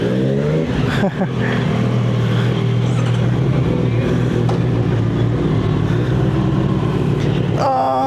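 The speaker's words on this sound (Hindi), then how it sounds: "फर्स्ट राइड विद एग्जॉस्ट, देखते हैं क्या करता है" Motorcycle with a new aftermarket exhaust, a Honda CBR650R or Triumph Street Triple RS, droning and revving steadily up close, loud and continuous with wind noise and a brief spoken remark.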